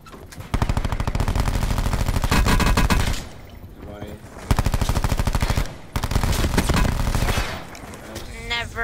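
Rapid automatic gunfire in a first-person shooter game, loud sustained bursts of several seconds each separated by short pauses, with voices talking in between.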